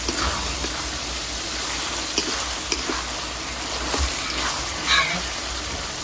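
Chopped tomatoes sizzle in a pan while a lentil (mung dal) dish cooks, a steady frying hiss with occasional stirring clinks and scrapes, fairly close.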